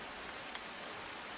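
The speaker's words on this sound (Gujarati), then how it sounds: "મોટાભાગના તાલુકાઓમાં અનરાધાર વરસાદ પડ્યો." Heavy monsoon rain falls across Amreli district in Gujarat as a soft, even wash of steady patter with no voices, faint and distant throughout.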